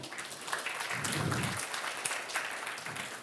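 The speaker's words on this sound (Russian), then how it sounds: "Еще раз похлопаем нашему спикеру" An audience at a tech conference talk breaks into applause for the speaker, a dense steady clatter of many hands clapping at moderate distance that fills the whole moment without talk.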